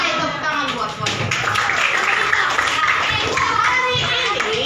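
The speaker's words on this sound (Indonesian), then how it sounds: "tepuk tangan buat semuanya." Children in a classroom clap their hands together in a busy, sustained burst close by, with chatter and voices mixed through the clapping.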